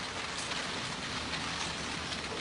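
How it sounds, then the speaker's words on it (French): Steady rain falling, a dense even hiss of drops with no breaks, moderately faint and continuous, with no voices over it. "Il va pleuvoir toute la journée."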